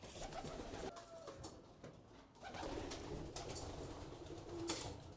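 Pigeons in a breeding loft, where young blue checks were just taken from the nest, coo in soft low repeated phrases, faint and slightly distant against a quiet hiss with occasional light rustles.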